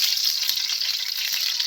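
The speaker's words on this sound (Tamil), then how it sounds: "சிக்கன் சமைக்கிறதுக்கு ஆயில் ஊற்றுறோம்" Oil hissing and sizzling in a pan on a stove by a riverbank, being readied to cook chicken; a steady, close, bright frying hiss with no talk.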